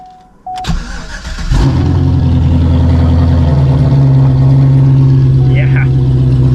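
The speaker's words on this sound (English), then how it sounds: "So I'm gonna fire old girl up. Cold start for the boys." Cadillac CTS-V engine cold starting: a starter whir, then the engine catches and roars up loud and close before settling into a heavy, throbbing high idle, with voices talking over it.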